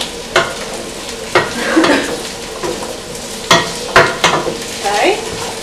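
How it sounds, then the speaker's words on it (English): Eggplant, sweet potatoes and potato sizzle in a pot while being stirred, with a steady frying hiss broken by repeated scraping and clacking strokes from the spoon, close and fairly loud, with no talking. "And now we're gonna add in the sweet potatoes and the potato. Put that in there. Give it a little bit of a stir."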